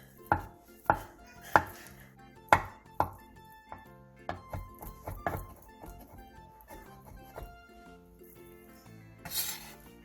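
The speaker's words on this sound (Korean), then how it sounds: "스팸 한 개를 잘게 다져주세요." A knife chops a can of Spam finely on a cutting board, with sharp close knocks, several strong early strikes followed by quicker, lighter chopping and a brief scrape at the end.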